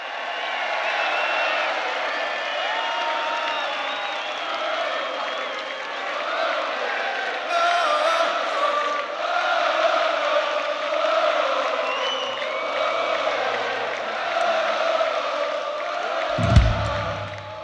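A large rock concert crowd in Berlin chants a sustained whoa-oh melody after a song, the massed voices rising and falling steadily at a distance, with a brief thump near the end.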